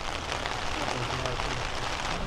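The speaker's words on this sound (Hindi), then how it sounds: "तगड़ी बारिश आ रही है" Heavy rain pours at Nishi-Oyama, the southernmost railway station in Japan, a dense continuous hiss and patter close by with no breaks.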